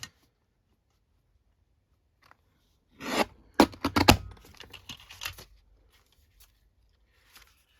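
Scissors snip through paper for a journal's signatures, a short cluster of crisp close cuts and rasps that follows a long quiet stretch.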